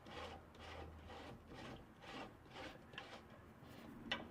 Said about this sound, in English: I'm going to screw it on there.